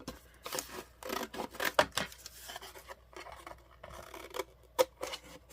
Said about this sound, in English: Now, I think I'm going to cut the whole thing down.